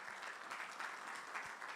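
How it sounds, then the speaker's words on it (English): A crowd applauds steadily for a couple of seconds, a dense wash of clapping hands with no voices standing out. "Can we clap for them, please?"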